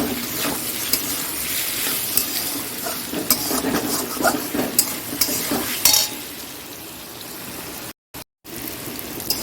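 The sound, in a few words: frying in a pan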